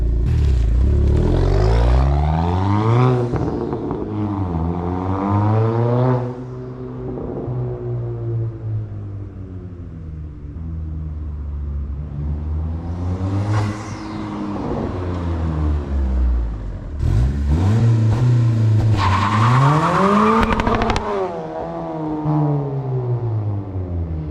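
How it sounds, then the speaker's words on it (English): A modified 2022 Honda Civic Si revs up and down repeatedly with rising and falling pitch, passing close by, with turbo whistling and clattering bursts as it accelerates and shifts. "drive by real quick so you guys can hear how the turbo noise sounds"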